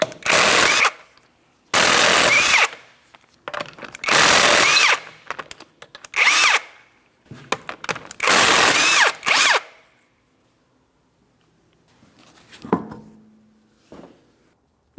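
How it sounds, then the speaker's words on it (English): Power impact tool loosening the five 19mm lug nuts on a 2004-2008 Pontiac Grand Prix front wheel, heard as five loud bursts of rapid hammering whir separated by pauses, then a few faint clinks of metal. "remove all 5 of your 19mm lug nuts and we can get the wheel off of here"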